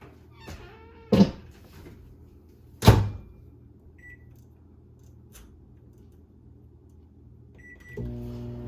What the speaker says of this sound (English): just put it in the microwave